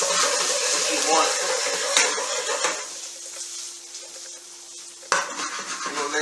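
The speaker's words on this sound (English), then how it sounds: "Add the carrots. Boom. Get that sizzle." Carrots frying in a pan of melted butter, a steady sizzle with stirring and utensil clatter in the first seconds, easing to a quieter hiss before a brief clank, close and moderately loud.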